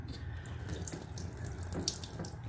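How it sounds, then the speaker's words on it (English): Water draining from a toilet bowl during a fill valve installation, a faint steady trickling rush with small splashes and no talking. "the rest of the water drained out of the bowl"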